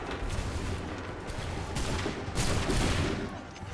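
A volley of musket fire in Assassin's Creed III, dense overlapping gunshots crackling close and loud, with a heavier burst of shots near the end.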